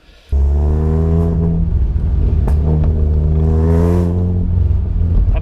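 A Peugeot 106 S16 engine rumbles loudly up close as the car drives off, pitch rising and falling through gear changes, with no voices.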